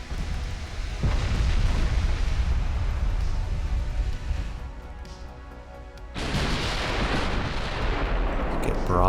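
Naval guns fire a broadside in the Ultimate Admiral: Dreadnoughts warship game, with heavy booming blasts, rumbling, and a second loud burst of cannon fire near the end.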